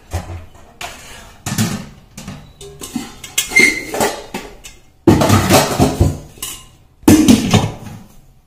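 Stainless pressure cookers, a large and a small set of two, clank and knock as they are lifted and set down in a home kitchen, with bursts of metallic rattling and bangs separated by short pauses.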